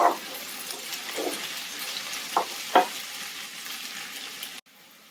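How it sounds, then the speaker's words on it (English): Onions browning in a pan for chicken biryani give a steady low sizzle, with occasional clinks and stirring scrapes up close. The sound cuts off abruptly near the end, and no one speaks. "What we want to do now is get some color on the onions, a slight brown on the onions"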